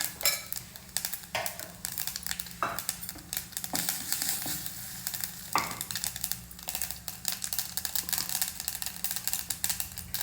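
Mustard seeds and urad dal with a pinch of hing in hot oil for ragi chutney tempering, a continuous close crackle broken by sharp popping bursts and utensil clatter, with no voices.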